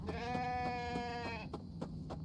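Sheep bleat in The Infected game world: a long wavering bleat over the first second and a half, then several short pulsed calls, fairly close and clear over a low rumbling background.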